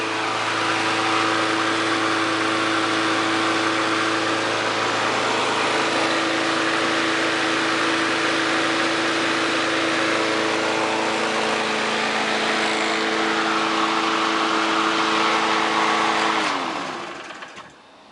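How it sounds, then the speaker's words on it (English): A Briggs and Stratton Classic vertical-shaft lawnmower engine of the original 1953 aluminum design runs steadily at close range with a strong, even drone, then winds down and cuts off near the end. "the design of Briggs' original aluminum engine for the lawnmower that they came out with in 1953"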